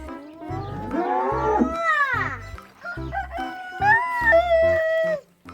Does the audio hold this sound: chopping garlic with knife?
no